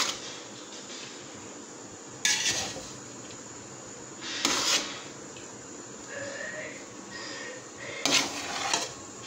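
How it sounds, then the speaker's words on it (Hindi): Biryani being mixed in a pot, with a few sharp scraping and clattering strokes of a utensil against the pot spaced a couple of seconds apart over a steady low background. "ये देखिए अब हो रही है बिरयानी मिक्स।"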